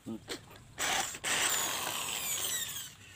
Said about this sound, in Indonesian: Kita bor lagi lor